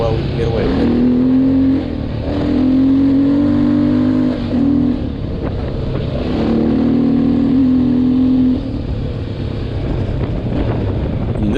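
Old Honda XR600R dirt bike on adventure tires ridden through a desert wash: a close, steady engine drone with rising and falling revs, heavily buffeted by wind noise throughout.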